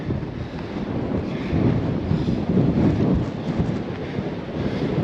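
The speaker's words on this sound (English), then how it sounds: "Winds are really picking up here, and it's downright cold." Cold, strong wind sweeps over a rocky mountainside near Black Gate, a steady, dense roaring rush against the microphone that swells slightly in the middle and carries on without pause, with no voices.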